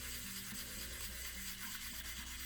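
A polymer clay cabochon worked with 2000 grit sandpaper, giving a quiet continuous rubbing and scratching of fine abrasive on the clay surface, close and even in rhythm with no talking.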